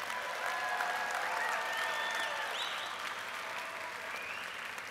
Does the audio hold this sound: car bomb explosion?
no